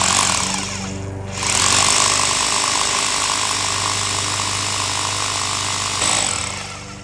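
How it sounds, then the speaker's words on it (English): A loud rotary hammer drills half-inch holes into a concrete patio nearby in sustained bursts, with a brief pause and restart, a harsh pounding drone throughout. "borrow a roto hammer from a friend and drill some 1/2-inch holes in the concrete"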